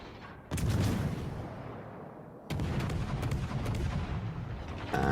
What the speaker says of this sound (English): And Chin's also opened up with guns.